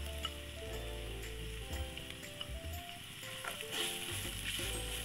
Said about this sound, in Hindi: अब हम इसके अंदर प्याज डाल देंगे।